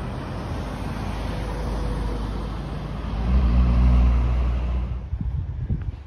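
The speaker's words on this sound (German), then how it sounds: "hier fahren überall die Autos vorbei" Cars passing along a city street near a university campus in Wilkes-Barre, Pennsylvania, a steady road rumble that swells as one vehicle goes by close, then fades toward the end.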